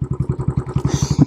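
A Royal Enfield Classic 500 Military motorcycle's single-cylinder engine runs close by with a loud, even thumping beat of evenly spaced pulses that quicken slightly near the end.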